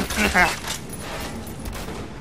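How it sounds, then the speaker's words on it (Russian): Gunfire in the video game Metro: Last Light, a burst of rapid shots near the start that trails into a noisy, rumbling wash, with a voice shouting over it. "Просто буду стрелять, расстреливать."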